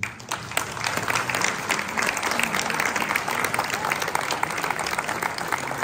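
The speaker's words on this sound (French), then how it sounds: "nous pourrions les remercier par vos applaudissements" An audience at a Villaudric food event applauds throughout, with dense, steady clapping from a crowd that holds at an even, fairly loud level from start to finish.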